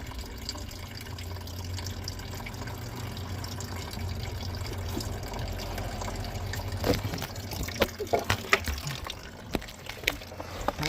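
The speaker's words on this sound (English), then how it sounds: "it's starting to drip on this side too, because coolant flows somewhere around that" Coolant drips from a Hyundai Santa Fe 2.0T, 2.4L or 3.3L into a bucket, with irregular small liquid taps and trickles over a low steady hum that grow more frequent toward the end.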